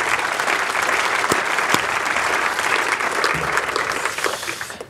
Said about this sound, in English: if you just give them a round of applause